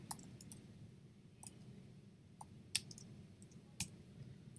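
Isolated computer key presses, sharp faint clicks spaced a second or so apart and a couple slightly louder, sound close against quiet room hum while someone formats text, with no talking.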